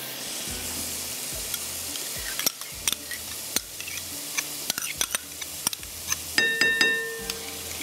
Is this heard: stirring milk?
yes